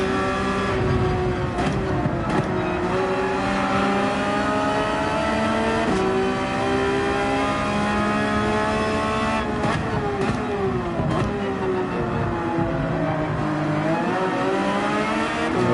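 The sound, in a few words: Ford Expedition 3.5 liter V6 EcoBoost engine revving, video game Gran Turismo 7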